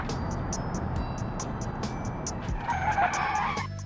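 A car in a modded driving video game brakes hard and skids, tires squealing continuously over engine noise, loud and close throughout.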